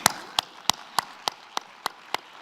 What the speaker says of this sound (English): applause is always welcome